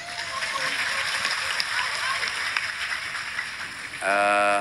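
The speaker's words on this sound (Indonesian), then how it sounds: "Tepuk tangan untuk Gus Azmi." Sustained audience applause at an Islamic religious gathering, a steady wash of clapping from a large crowd with a voice coming in over the PA at the end.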